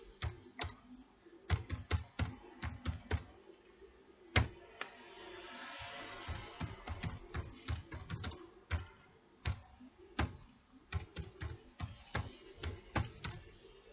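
Keys on a computer keyboard are typed in quick, uneven bursts of sharp close clicks, with a short pause and soft rustle midway before the tapping resumes.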